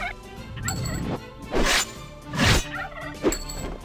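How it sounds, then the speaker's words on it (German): Turkeys gobble repeatedly in the video game Castle Storm, with several loud, bright gobbling bursts spread across the few seconds over a busy game soundscape. "Mich greifen Truthähne an. Starke Truthähne, fliegende Truthähne"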